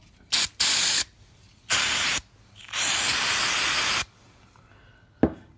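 Carburetor cleaner sprayed onto the fuel bowl float of a clone motor carburetor: four loud, close hissing bursts of varying length, the longest running over a second, separated by brief quiet gaps, followed by a single sharp click.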